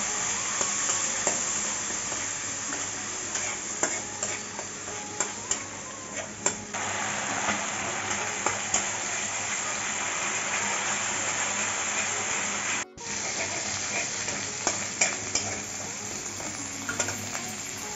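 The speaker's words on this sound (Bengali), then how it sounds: "এখন ভালো করে কষিয়ে নেবো মশলাটা" Spice paste with turmeric, salt and a splash of spice-rinsing water frying in a pan for papaya chorchori, a steady crackling sizzle throughout with small clicks of stirring and one brief dropout near the end.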